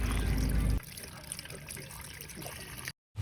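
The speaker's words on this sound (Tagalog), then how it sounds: "buhusan natin ng malamig na tubig para hindi siya ma-overcook" Cold water poured over drained penne pasta in a home kitchen makes a soft trickling, splashing pour, louder at the start and then a quieter steady dribble, with a brief cut near the end.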